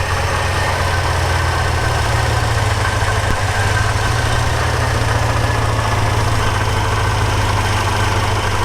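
A 1939 Ford Woody Wagon's 350 LT-1 V8 idles steadily with fuel injection, a smooth, even low rumble that stays loud and close with no talk.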